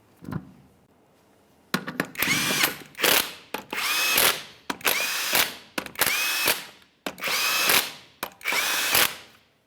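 A power tool drives 22mm lug nuts onto a 1999-2006 Chevrolet Silverado 1500 front wheel in six sharp, loud whirring bursts with short gaps between them, close by.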